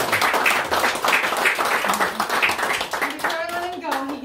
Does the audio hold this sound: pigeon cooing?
no